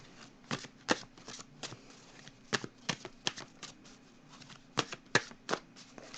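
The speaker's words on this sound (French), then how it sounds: "Je vais piger, je pense, une carte pour terminer des messagers de l'univers." Tarot cards shuffled and drawn during a reading, a quiet run of crisp riffling flicks and slaps in uneven bursts, close and alone with no talk.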